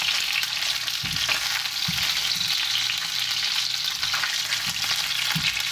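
Steelhead trout sizzling and crackling in hot oil in a wok, a continuous frying hiss with occasional soft scrapes of a spatula against the pan.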